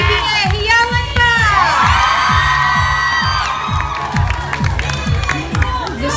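A loud crowd at an awards show cheers, whoops and shouts throughout, with shrill voices rising and falling in dense, continuous excitement.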